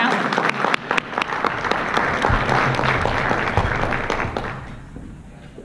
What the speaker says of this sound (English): Let's give a round of applause for Alan.